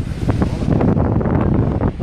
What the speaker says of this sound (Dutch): Het is wel vandaag een beetje bewolkt. Veel wind.